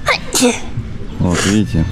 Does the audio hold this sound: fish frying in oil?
no